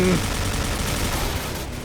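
HK416 rifle gunfire in Point Blank, heard as dense, continuous rapid fire that stays loud and close throughout the short burst.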